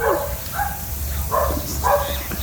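A dog named Mira barks at a sanctuary-style retreat, letting out several sharp, separate barks with short pauses between them against a low background rumble.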